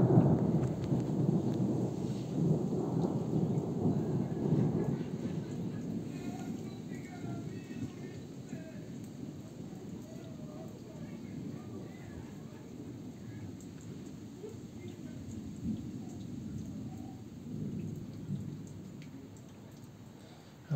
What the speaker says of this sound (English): I was about to say if the thunder has ended.